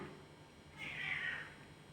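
A cat gives one short, faint meow that rises and fades within about a second against quiet background noise.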